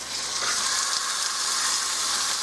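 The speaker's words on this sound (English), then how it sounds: "I'm going to put these in here skin side down. Yep, you can hear them. They're starting to sizzle." Chicken breasts laid skin side down in a hot pan sizzle loudly and steadily with a bright, crackling hiss that stays constant throughout, close up and with no talk.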